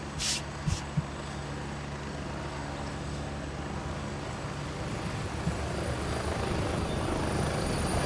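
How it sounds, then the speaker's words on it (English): An approaching helicopter's steady rotor drone in Gray Zone Warfare builds and holds, a low broadband thrum filling the scene, with a couple of brief clicks near the start. "Alright, helicopters coming in."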